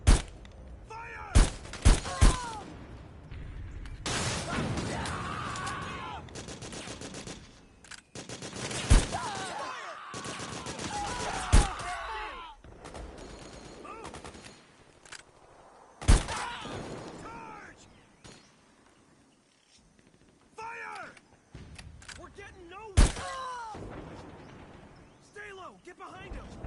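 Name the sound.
gunfire in video game Metal Gear Solid 4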